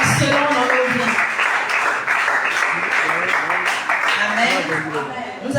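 A church congregation applauds and acclaims with continuous clapping and raised, cheering voices that fill the whole stretch at a steady, loud level.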